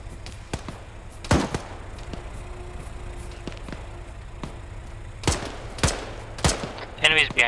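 Guns fire during an outdoor airsoft or milsim game, with scattered sharp shots at first and then clustered bursts near the end, some close and loud, others softer and farther off.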